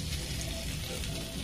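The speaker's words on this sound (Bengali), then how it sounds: "এবার এর মধ্যে আমি চিংড়িটা কিন্তু দিয়ে দেবো" Prawns dropped into hot oil for a Bengali prawn dish with flat beans give a steady, broadband sizzle and light bubbling, close and continuous, with no talk.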